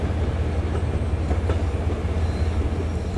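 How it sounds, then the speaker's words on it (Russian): Train rolling along rails in the zombie survival game Zompiercer, a steady loud low rumble with faint intermittent metallic squeaks of wheels against track, no talking. "Вот эти звуки скрипящих колес по рельсам."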